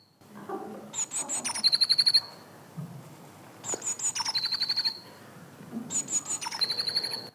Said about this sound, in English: I heard this bird singing